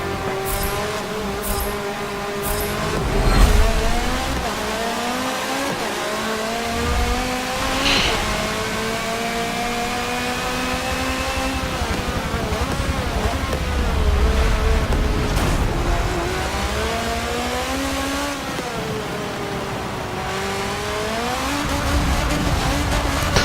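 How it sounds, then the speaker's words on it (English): Race car engine in Forza 7 on a wet track, revving with rising and falling pitch through gear changes, bursts of tire squeal and wheel spin, a few sharp knocks early on, no talk. "A little bit surprised by the amount of wheel spin."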